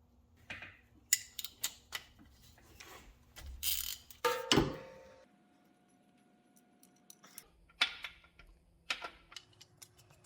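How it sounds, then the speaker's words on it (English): A ratchet clicks and metal tools clatter while the differential drain plug is removed on a C6 Corvette, irregular close ratcheting bursts and knocks separated by quiet gaps. "we'll go ahead and check it by removing the drain plug here and putting our little feeler in there"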